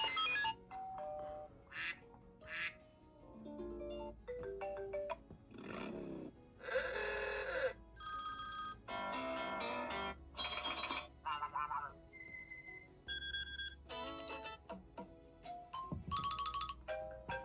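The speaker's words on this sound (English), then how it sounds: "those are the iOS 6 and 7 ringtones for you" A run of iPhone ringtones from iOS 6 and iOS 7 plays one after another: short bursts of bright electronic chimes and melodic tones, separated by brief gaps, loud and close, with no talking.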